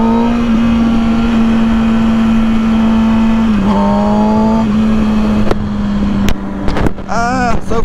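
A 2006 Kawasaki Ninja ZX-6R 636 sport bike being ridden, its engine holding a steady drone close to the microphone, with wind buffeting and a brief rise and fall of revs near the end.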